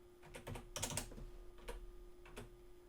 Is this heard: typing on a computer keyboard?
yes